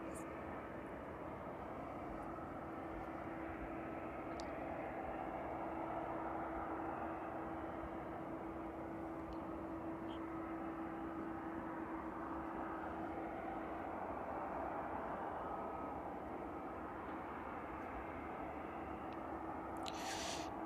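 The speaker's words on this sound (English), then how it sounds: "that was the final departure on this evening's stream, the Aerologic 777" An Aerologic Boeing 777 freighter departs East Midlands Airport in the evening, its jet engines a broad, steady roar with a faint tonal whine, heard from a distance under intermittent talk.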